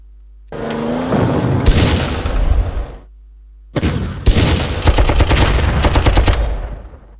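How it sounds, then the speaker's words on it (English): Artillery in a war strategy video game fires in defense against attacking tanks, giving two loud bursts of rapid booming gunfire with a short pause between, the second stretch denser and longer. "the artillery fired in defense"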